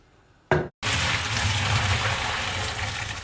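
Hot pasta water pours out from cooked spaghetti, a loud continuous gush and splash that starts abruptly after a brief thump and a short pause, then runs steadily to the end.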